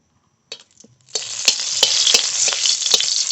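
Two dry red chillies hit hot oil, bursting into a loud, close, steady sizzle after a few brief crackles, with sharp pops and spatters punctuating the hiss.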